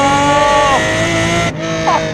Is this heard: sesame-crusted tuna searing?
no